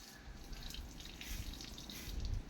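Water runs from a tap while feet are washed, a soft, steady splashing and trickle at low level, continuous throughout with no voices.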